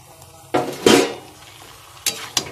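Fried potatoes tumble into a pan of braised chicken kosha, a loud clattering splash of pieces hitting the pan, followed by two sharp utensil knocks against the metal.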